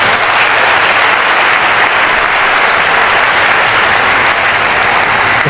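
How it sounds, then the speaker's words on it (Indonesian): An audience gives Pak Ahok a sustained round of applause at a conference hall event, dense and loud, with many hands clapping steadily throughout. "mari kita sekali lagi memberikan aplaus untuk Pak Ahok"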